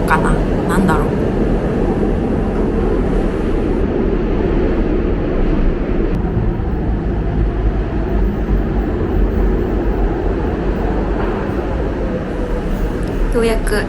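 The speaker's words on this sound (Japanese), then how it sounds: "ようやく電車が来ました。" A historic Budapest metro train pulls into an underground station, a loud continuous rumble and roar filling the platform for the whole stretch, steady and close without letup.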